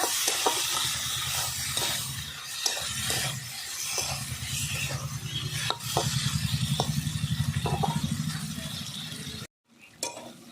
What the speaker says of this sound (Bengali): টমেটো কুচি দিয়ে আমি আরেকটু ভালো করে কষিয়ে নেব।